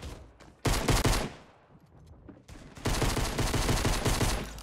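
Rapid bursts of gunfire in a Fortnite match as a player is killed: two dense, loud volleys separated by a brief lull, with no talk over them.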